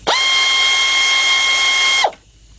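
A ratchet loosens an engine bolt on a 2003 Jeep Liberty 3.7, one fast, continuous clicking run lasting about two seconds, close and loud, then stopping.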